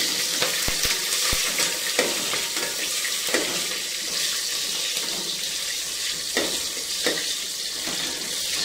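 Green chillies frying in very hot oil in a pan, a dense close crackling sizzle with sharp pops and spatters scattered through, no voices.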